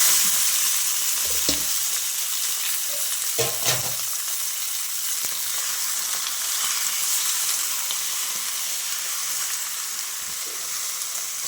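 Goat liver frying in a pan gives a constant bright sizzle, with a few close clanks of a utensil stirring near the start, steady and unbroken with no speech.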